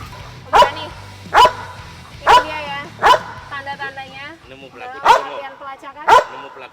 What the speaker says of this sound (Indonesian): Ketika dia menemukan pelaku dan pemberani, dia akan menggonggong seperti ini.